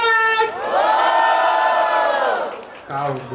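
Crowd at a Brazilian battle rap event in São Paulo's Zona Leste cheering and shouting loudly for a round, a sustained roar of voices with a shouted call over it.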